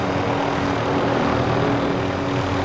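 A propeller airplane drones steadily in the Warzone battle royale game, a loud, close, continuous engine hum with no break.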